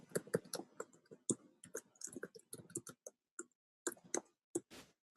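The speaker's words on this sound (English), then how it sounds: "We're hearing somebody's typing," Quiet, irregular clicking of keys on a computer keyboard, tapped in quick bursts with short pauses, close by and without talk.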